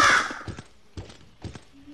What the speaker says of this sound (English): I also need to watch out for those crows.